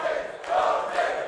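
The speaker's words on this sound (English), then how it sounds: "Got the JeonDDing chant going in the crowd right now" Crowd chanting a player's name in unison at a Tekken World Tour 2022 Global Finals losers final, a loud, steady roar of many voices with rising swells.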